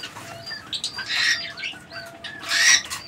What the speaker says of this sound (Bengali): এখানে আরো এক জোড়া কবুতরের কালেকশন রয়েছে